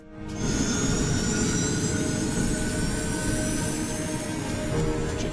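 An airliner's jet engines run at full power during a test flight. The roar comes up fast and then holds loud and steady, with whining tonal layers over a broad rumble.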